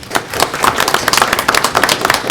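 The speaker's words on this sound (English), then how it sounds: "give a round of applause for Malcolm York Roberts" A room of attendees at a school board meeting applauds a student, a short burst of dense, close clapping from many hands with no talk over it.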